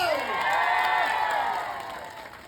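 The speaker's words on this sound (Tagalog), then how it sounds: "Kung totoo, pumalakpak lang may sigaw!" A crowd at an Antipolo special-election campaign rally applauds and cheers loudly. Shouts and whoops ride over steady clapping, then the noise slowly fades.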